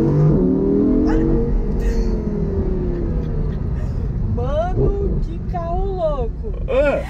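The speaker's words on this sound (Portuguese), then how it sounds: "o carro rodou ali, eu desliguei o controle de tração, fiz nada" Audi R8 with traction control switched off spinning out in a drift, a loud engine drone with rising and falling pitch, while excited voices talk and shout over it throughout.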